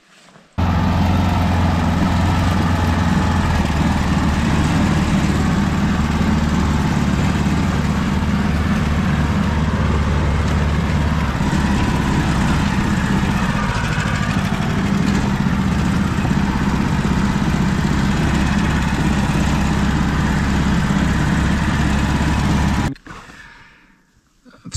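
A car engine runs steadily with a low rumble and road noise inside the cabin while driving home, constant and close for over twenty seconds before cutting off abruptly.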